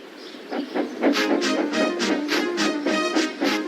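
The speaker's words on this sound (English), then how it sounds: "Hello, fat face, whistled Henry." A series of short, bright whistle-like toots in a rapid rhythm over a steady hiss, sounding like a small steam engine whistle, close and fairly loud.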